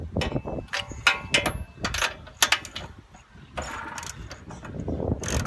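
A wrench loosens the spark plug on a small engine, giving close, irregular ratcheting clicks and metallic clanks in short bursts with pauses between.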